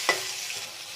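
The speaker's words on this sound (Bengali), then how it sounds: "আমি পেঁয়াজটা একটু ভাজা ভাজা করে নেব।" Ground onion paste fries in a pan of oil while making a spiced egg curry, giving a brief sharp sizzle at the start that settles into a soft, steady hiss.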